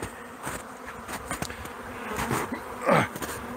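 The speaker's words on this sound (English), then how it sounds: "there are lots of bees today" Stingless bees buzz around close by their hive in snowy Newfoundland, several passing the microphone with rising and falling drones over a steady insect hum.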